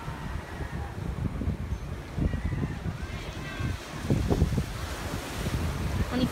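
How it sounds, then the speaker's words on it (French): Light wind buffets the microphone in steady, rumbling gusts outdoors in Santa Monica, with a faint surf-like wash underneath and soft voices in the background. "Il y a juste un petit vent"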